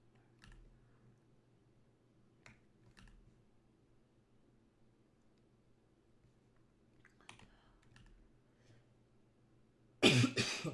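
A few soft coughs and throat sounds scattered over quiet room noise with faint clicking, ending in a sudden loud burst.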